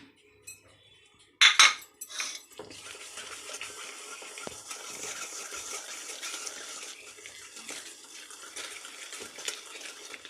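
Cake batter being mixed in a bowl for an eggless, chocolate-free cake, with a loud clatter of utensil on the bowl early on, then a steady soft scraping and swishing of stirring throughout, no talking.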